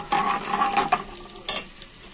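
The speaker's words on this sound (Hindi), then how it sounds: "अब हम अपना ऑयल गरम करके उसमें थोड़ी सी बिल्कुल चॉप हुई हुई प्याज डालेंगे, इसको अच्छे से फ्राई करेंगे थोड़ा सा।" Chopped onions hit hot oil in a kadhai for chicken tikka kadhai, producing a close, bright sizzle with stirring scrapes that flare, then ease off toward the end.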